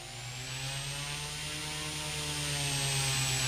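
A simulated F-16 jet in the RealFlight 9.5S simulator makes a slow pass with a steady, loud engine drone and a high whine that rises gently and holds throughout, with no talking.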